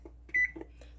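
A kitchen oven timer being set gives a short electronic beep, one clear tone near and alone in a quiet room, with faint clicks around it.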